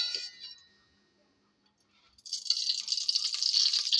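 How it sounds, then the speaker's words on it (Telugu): Cooking oil pours into a pan for curry, a steady hissing stream beginning after a brief clink and a near-silent pause, close and fairly loud. "ముందుగా అయితే ఆయిల్ వేసుకోవాలండి."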